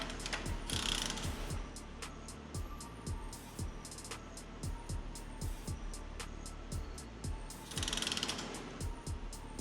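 A ratchet wrench torquing cylinder head bolts on a BMW M52 engine (E46 M52B25TU) clicks in steady repeated strokes, close and distinct, with brief louder metallic bursts at the start and near the end.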